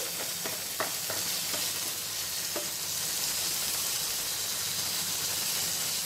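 Chopped tomatoes sizzling and frying in a pan, with a steady hiss and a few scraping stir clicks early on; no talk over it.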